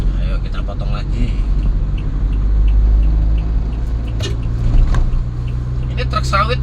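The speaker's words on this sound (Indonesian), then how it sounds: "Ini truk sawit teman-teman yang saya potong ini" A car on an Indonesian road overtakes a slow palm oil truck, with a loud steady engine and road rumble throughout and someone talking over it.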